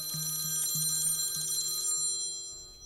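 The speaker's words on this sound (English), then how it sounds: "When Frank Boren's phone rang" A telephone rings in a home in repeated short trilling bursts, five evenly spaced rings over a steady background hum with no talking.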